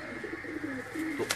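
Lakha pigeons coo softly at close range in a short run of low, throaty murmurs, with a faint higher chirp near the end.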